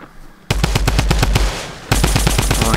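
Rapid bursts of Tommy gun fire in a solo squads battle royale video game, loud and close, with repeated evenly spaced shots and a brief pause before a denser volley.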